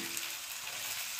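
Mustard seeds and vegetables fry in hot oil for rava appe, giving a steady, dense sizzle close up with no pauses.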